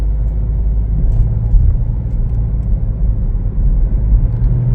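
A 2025 Chevrolet Trailblazer FWD LT driving on a road in traffic, giving a steady, continuous low engine and road rumble from inside the cabin, with no talking.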